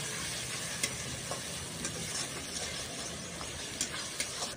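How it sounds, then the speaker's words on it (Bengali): Onion with ginger-garlic paste fries in a pan for a sea crab curry, giving a soft, steady sizzle with occasional light stirring clicks, fairly quiet and close, with no voices. "আমি পেঁয়াজের সাথে আদা রসুনটাকে খুব ভালোভাবে ভেজে নেব"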